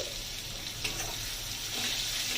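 Ginger fries in hot oil in a pan while cooking a vegetarian papaya dal, making a steady, even sizzle and hiss with no talking.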